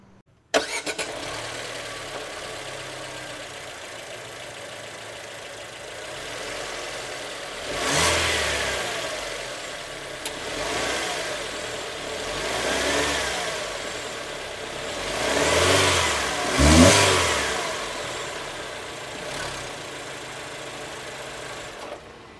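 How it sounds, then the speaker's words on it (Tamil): An MG Astor Shine variant car engine idles steadily, then is revved several times in rising, falling surges before settling back to a smooth idle. "இந்த வீக்கோடைய இன்ஜின் நோட்டை கேளுங்க."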